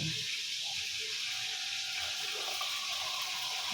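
A kitchen tap runs steadily over scallops being washed for adobo: a continuous, close, hissing gush of running water with no pauses.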